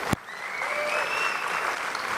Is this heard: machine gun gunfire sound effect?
no